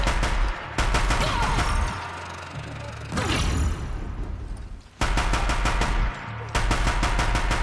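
Sustained rapid automatic gunfire in the Horizon Zero Dawn game, loud and close, with bursts broken by brief pauses and mechanical game sounds between volleys.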